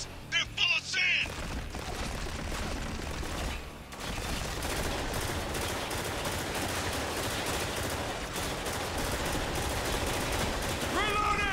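Gunfire in the video game Spec Ops The Line, with dense automatic rattling and shots running almost the whole way through, under and between talking voices.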